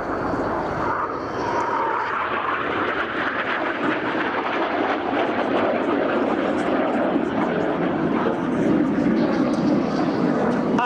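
A Frecce Tricolori aerobatic jet flying a display at the Zeltweg AirPower airshow, rolling and flying inverted, gives a loud, sustained engine roar that swells and shifts in pitch, with a commentator talking over it.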